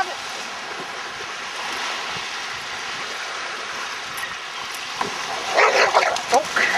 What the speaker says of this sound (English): Little dog altercation there.